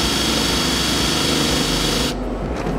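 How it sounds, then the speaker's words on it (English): Cordless power drill spinning a bit while fitting a PVC bolted flange fitting to a poly tank, a loud steady whir that cuts off abruptly near the end. "you're gonna attach your drill to it"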